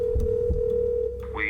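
A steady, even telephone tone drones for over a second, then drops away as a brief higher tone rises, with a faint voice underneath.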